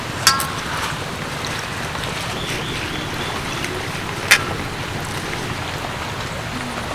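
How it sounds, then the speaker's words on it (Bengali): Chopped taro leaves are washed and squeezed by hand in a bowl of salted water, producing a steady close sloshing and splashing with a couple of sharp clinks. "এবার এই কেটে রাখা কচু পাতাগুলোকে জলের মধ্যে দিয়ে দেবো এবার এগুলোকে ভালো করে চটকে চটকে ধোবো"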